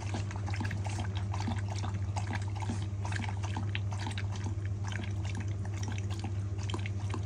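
A dog lapping water from a bowl, steady rapid wet lapping sounds close up over a constant low hum, no talk.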